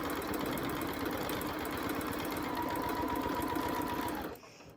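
Free-motion quilting on a sewing machine, meandering with curls and loops at a slow pace, a steady close whirring hum that runs for about four seconds before cutting off.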